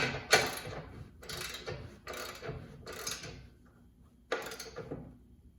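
A ratchet wrench clicks in five quick, close bursts while snugging down bolts on Silverado side steps, with short pauses between each run of clicks.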